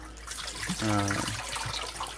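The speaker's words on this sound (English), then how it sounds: "Usually just a quick rinse and agitation in water like this is plenty." Morel mushrooms rinsed and agitated by hand in water, a short burst of sloshing and swishing with a louder surge in the middle, close and brief.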